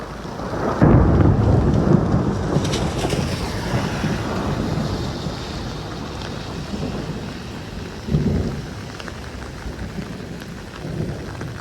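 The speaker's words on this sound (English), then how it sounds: "I'm hoping that you heard that clap of thunder there." Loud thunderclap cracks and rumbles over steady heavy rain during a May thunderstorm in Norwich, with a second rumble swelling later as rain keeps hissing close by.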